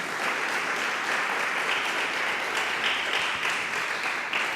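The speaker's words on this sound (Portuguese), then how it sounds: "aplauda bem forte o nome de Jesus." A church congregation applauds loudly, a thick, continuous roar of clapping from many hands that holds steady throughout.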